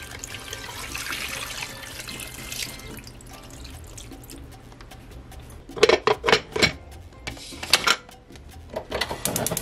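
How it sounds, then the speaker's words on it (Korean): Broth is poured into a cooking pot for a carp and chicken soup: a soft background hiss gives way to loud, splashing gushes of liquid in several uneven bursts near the end. "먼저 육수를 넣어줍니다"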